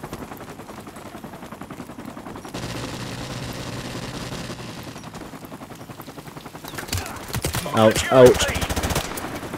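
Gunfire in Call of Duty 4 Remastered crackles in repeated automatic bursts that grow louder and denser toward the end, with brief spoken exclamations over it.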